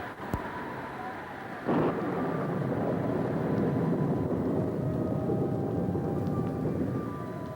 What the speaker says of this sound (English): nothing but the echo of thunder and the whine of the rising wind